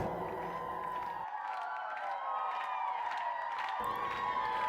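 Townspeople cheer and shout with joy at the end of a war, a sustained crowd roar blended with ringing tonal sounds, heard at a moderate distance.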